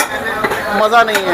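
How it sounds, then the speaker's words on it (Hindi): Metal ladle clanking and scraping against a large pot of nihari in quick irregular strokes, close by, at a Delhi nihari shop, with a voice speaking over it. "देग और चम्मच का ये जो तालमेल है, जो इसकी आवाज़ है"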